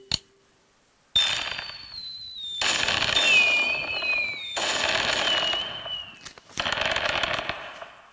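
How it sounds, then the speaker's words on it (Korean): Fireworks launched in a school science flame-reaction demonstration: four loud, crackling bursts, each a few seconds long with whistling tones rising and falling inside them, separated by brief gaps, with no talking. "자, 불꽃 발사. 불꽃 발사 다시 한번 해볼게요."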